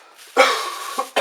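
A person coughs nearby, with a harsh, breathy cough followed by a second short burst, loud against an otherwise quiet room.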